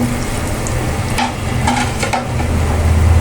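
Stuffed shami kebabs go into hot oil three at a time, frying over medium heat with a steady, close sizzle and crackle that builds slightly louder toward the end, with occasional light stirring clicks.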